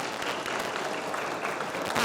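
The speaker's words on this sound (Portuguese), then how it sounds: "convidamos com os aplausos o senhor Pablo Souza." Conference audience at a São Paulo infrastructure governance event breaks into sustained applause, a thick, even roar of many hands clapping throughout.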